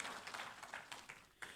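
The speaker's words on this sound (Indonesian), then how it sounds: "Boleh tepuk tangan kita buat Tuhan, saudara." Church congregation applauding during a worship service, a dense, quiet patter of many hands clapping with small irregular peaks, fairly distant and low in level.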